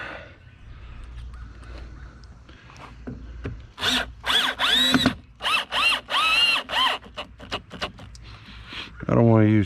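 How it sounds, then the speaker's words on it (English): A power drill installs a fish finder transducer mount: after quiet handling noises, a series of short, whining motor bursts rise and fall in quick succession, close by, ending with a final longer run. "I don't want to use too strong of a drill."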